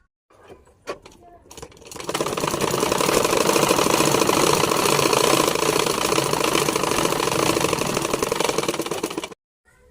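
A sewing machine runs in a steady, fast mechanical stitching rattle for several seconds, close and fairly loud, stitching folded silk fabric for a one-year-old's dress, after a few soft handling taps and before stopping abruptly.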